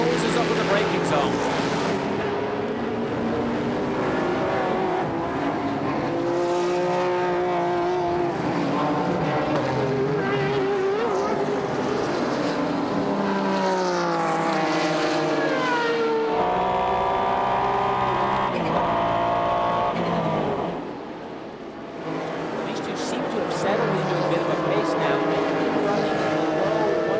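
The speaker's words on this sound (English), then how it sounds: "Under power, that second, third gear turbocharged boost of power just gives McNish a nice cushion of breathing space." A turbocharged Porsche GT1 race car engine screams past at high revs during the 1998 Petit Le Mans, rising and falling through gear changes, loud and continuous with a brief dip near the end.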